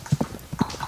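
Cartoon horse hooves clip-clop in a quick, close run of four or five crisp knocks, loud and alone with no talk over them.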